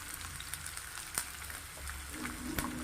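Mixed vegetables such as cauliflower, carrot, peas and beans sauté in hot oil, giving a soft steady sizzle with faint stirring scrapes near the end.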